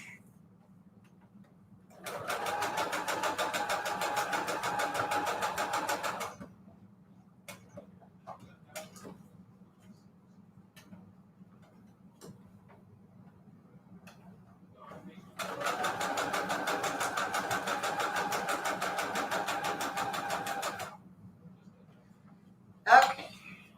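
A sewing machine runs two long bursts of steady, rapid stitching along the edge of a vellum pocket, each burst several seconds long, with quiet pauses between and a faint low hum throughout.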